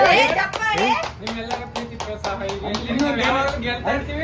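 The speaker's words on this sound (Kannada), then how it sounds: "ಚಪ್ಪಾಳೆ." A small group claps steadily for game winners receiving a gold cup, a run of quick, close hand claps lasting several seconds, with voices and cheering mixed in.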